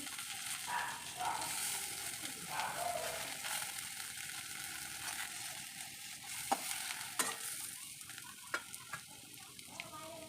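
Pumpkin leaf fritters fry in hot oil with a steady, close sizzle and bubbling, broken by light scraping stirs and a few sharp taps of a utensil against the pan.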